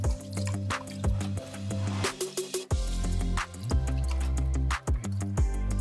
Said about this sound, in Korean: 그 다음 콩나물은 물에 3번 헹궈서